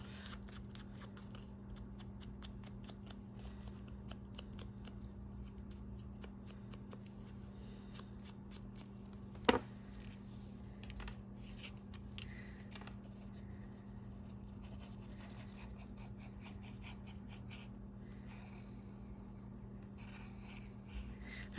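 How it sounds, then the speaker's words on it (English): Scissors snip through paper playing cards for a vintage nature junk journal, a steady soft crisp rustling and cutting texture close by, with one sharp louder snip partway through and no talking. "I used scissors to cut these"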